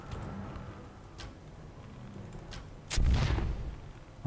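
Gunfire in the video game UnEpic: a sharp, loud, booming shot near the end that stands out above a quieter background of scattered game sounds and a few fainter thuds.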